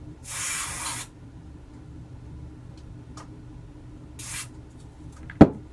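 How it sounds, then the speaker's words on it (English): Two short hissing bursts of contact cleaner sprayed into a cassette deck switch, about a second each, with faint clicks between and a sharp click near the end. "spray contact cleaner inside the switch as much as possible."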